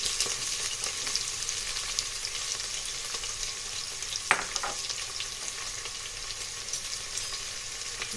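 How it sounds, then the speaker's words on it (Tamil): Sliced onions, about 200 grams, sizzle steadily in hot oil in a pan, a continuous quiet crackle with one brief scrape of stirring partway through. "இப்போ நம்ம கிளறிக்கலாம் வெங்காயத்தை"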